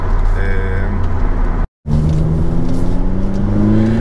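An Opel Corsa OPC engine pulls steadily under load while driving, a continuous loud hum with rising pitch as it accelerates, a brief cut in the middle, and a voice speaking over it.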